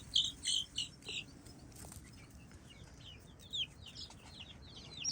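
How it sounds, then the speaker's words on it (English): Chickens and young chicks in a flock give soft clucks and high peeping calls in bursts, with a steady insect-like chirring underneath, fairly faint and close, no voices. "And we're all here with the chickens and the chicks."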